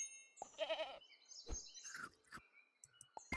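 Goat bleat from the Super Auto Pets video game, a short quavering cartoon bleat followed by small chirpy pops and clicks from the game, quiet with no voices.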